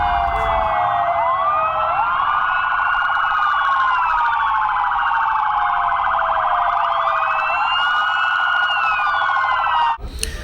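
Ambulance and fire engine sirens arrive at Karachi airport, several wailing tones overlapping loudly and continuously before cutting off abruptly near the end.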